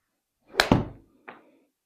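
A golf wedge hit in a Trackman simulator, struck slightly out the toe: a sharp club-on-ball thwack with a quick second knock right after, then a fainter thud about half a second later, with no talk over it.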